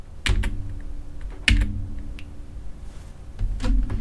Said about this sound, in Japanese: まずタブキーを押してみます。